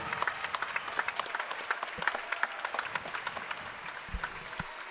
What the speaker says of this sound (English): Let's give a round of applause to our band.